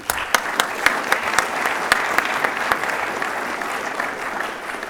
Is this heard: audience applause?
yes